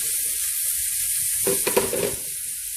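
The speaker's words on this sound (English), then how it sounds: "So now we dump the cabbage in here." Cabbage dumped into a hot pan: a steady high hiss of sizzling oil, swelling into a brief burst of crackling and clattering as the cabbage lands, then settling back to a constant sizzle.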